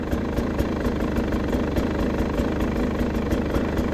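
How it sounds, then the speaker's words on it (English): A 2023 Beta 300RR Race Edition dirt bike with a very short silencer idles close by, a loud, steady two-stroke putter with rapid even pulses throughout and no voices. "new bike is actually, it's a little loud, but it's not that bad, even with that super crazy short silencer"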